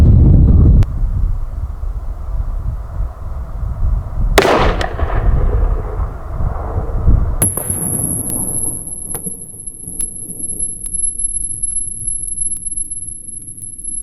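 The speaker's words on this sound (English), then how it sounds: "We're going to shoot it with the 243 first" A single loud .243 Win rifle shot cracks outdoors during a penetration test, with a sharp report and a fading rumble, preceded by gusty wind noise on the microphone and followed by a quieter second bang.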